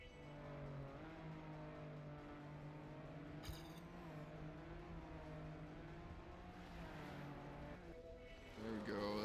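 Desert car engine in Trackmania, a steady droning hum with shifting pitch as it drives and revs, a brief sharp click midway and a rise near the end, mostly alone at a moderate level.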